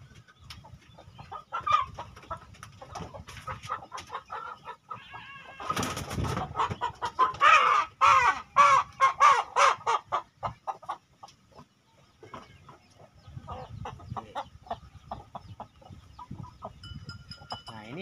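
Chickens cluck and a rooster crows among farm fowl in a small breeding flock, with scattered close clucks, a dense burst of calls midway and quieter rustling around it.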